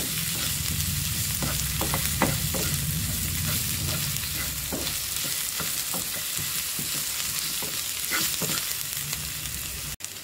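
Ginger garlic paste sautéed with onions in a pan for kara chutney gives a steady, close sizzle, with stirring scrapes scattered throughout and no talking.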